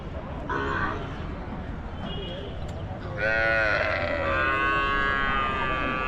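Cattle and buffalo at the Namakkal Wednesday livestock market, lowing and grunting animal calls rising over a busy crowd, with a longer loud moo in the latter half.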